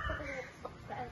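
A rooster gives a few soft, low clucks, close by and moderately loud, with brief pauses between the calls.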